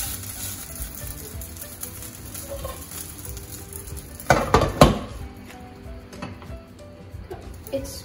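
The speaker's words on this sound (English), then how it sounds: "Move the spatula all the way through and then flip" Under a steady sizzle, a metal spatula scrapes beneath a rice uttapam on a hot pan and flips it, with a brief burst of louder scraping and clatter midway, close by.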